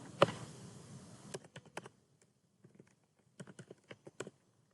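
A name is typed on a computer keyboard in short bursts of crisp key clicks, with gaps between the runs of keystrokes and a louder key tap near the start.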